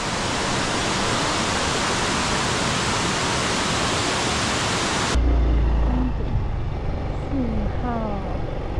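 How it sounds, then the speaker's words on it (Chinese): Nan'an Waterfall in Hualien, Taiwan, roars as a dense, steady rush of falling water. The sound then drops abruptly to a quieter, thinner rushing with faint rumbling underneath. "南安瀑布"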